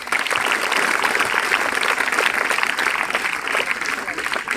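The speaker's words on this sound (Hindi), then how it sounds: "तालियां बजाओ फिर" Students clap together in a classroom at a government senior secondary school in Hisar district, a dense, steady round of applause that stays loud and unbroken throughout.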